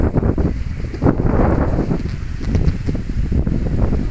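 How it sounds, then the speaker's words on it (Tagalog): Strong gusting wind buffets the microphone, producing a constant low roaring rumble that swells and fades throughout. "Mahangin talaga. Lakas ng hangin ah."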